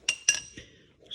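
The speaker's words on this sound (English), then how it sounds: "So I'll take this bolt out" A bolt is removed from a brake line fitting on a Dodge Ram 2500 pickup, giving two sharp metallic clinks close together, then a softer third tap and a faint scrape.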